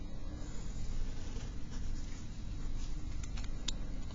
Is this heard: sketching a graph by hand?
yes